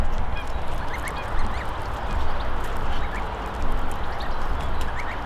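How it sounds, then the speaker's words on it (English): A large flock of ducks crowds together at a fishing lake, quacking and honking without letup in a busy, overlapping chorus, loud and close over a steady outdoor background. "Just let me sort these bloody birds out. Look at them all."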